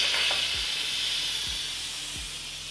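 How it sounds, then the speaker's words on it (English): Steam hisses steadily from an Instant Pot during quick release, a loud continuous airy rush that fades slightly over a few seconds, with faint low thumps underneath and no talking. "We need to quick release, which means we're going to flip this and it's going to steam everywhere."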